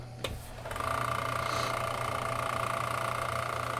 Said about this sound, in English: It's been a good sander.